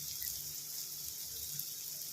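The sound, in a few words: hot water poured from a jug into the pan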